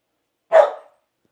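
A pet dog barking at people on the porch, giving a single short, sharp bark at moderate distance, surrounded by silence.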